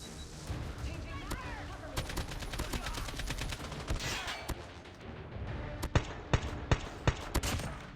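Gunfire in the mobile shooter Call of Duty Mobile: bursts of rapid shots and sharp single cracks, loud and close, with a few distinct reports near the end, under talk.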